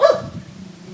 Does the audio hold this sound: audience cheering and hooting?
no